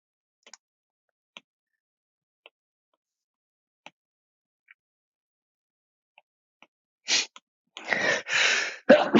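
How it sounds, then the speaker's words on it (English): A series of faint, sparse clicks and ticks, then a sudden sharp sneeze followed by a couple of loud, breathy bursts close to the microphone. "excuse me, there was the sneeze."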